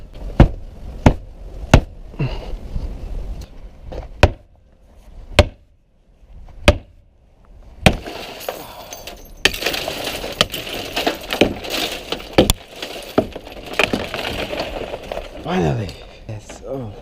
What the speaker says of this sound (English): I have no choice but to break the window.